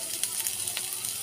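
Chopped onion sizzles and crackles in a pan while being stirred, a soft continuous fry with brief scraping touches, close and fairly quiet.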